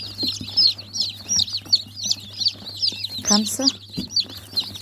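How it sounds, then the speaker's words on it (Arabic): Farm chickens clucking in a rhythmic run of close, repeated calls over a steady low mechanical hum, with a person speaking briefly partway through. "تايهين في وسط الفراخ"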